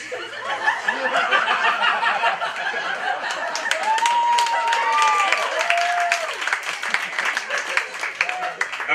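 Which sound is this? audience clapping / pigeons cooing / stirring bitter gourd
audience clapping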